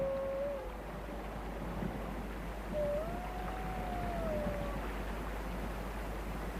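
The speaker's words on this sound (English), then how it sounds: "The pack is spread out, but keeps in touch by howling from time to time." Arctic white wolves of a spread-out pack howl to keep in touch, a faint drawn-out rising and falling tone heard twice at a distance over steady low wind or water rumble.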